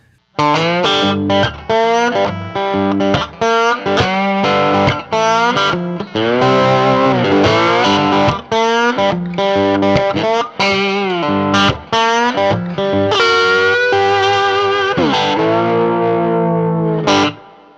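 Distorted electric guitar with a Wild Customs Jalapeno P90 pickup, on a Billy Gibbons signature GYROCK guitar, playing a melodic riff with effects, loud and sustained with short pauses between phrases.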